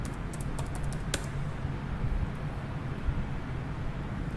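Typing on a computer keyboard: a quick flurry of light clicks near the start, then faint sparse taps over steady low background hum, with no talk.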